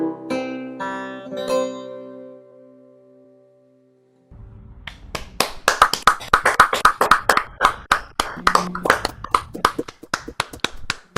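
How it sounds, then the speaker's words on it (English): Over Zoom, a closing sung note fades into silence, then a burst of scattered, uneven clapping from many people arrives as sharp, slightly compressed individual claps overlapping in a ragged rhythm. "it's so nice to hear clapping through Zoom en masse"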